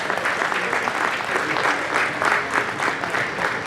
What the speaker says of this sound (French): Alors je crois que vous pouvez applaudir les enfants qui ont fait une super séance,